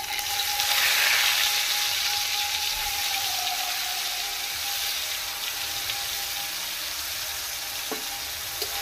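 Onion paste sizzles steadily in a hot pan while cooking doi chingri, a loud, dense frying hiss that stays continuous throughout, with a brief spatter burst near the start and a faint clink near the end.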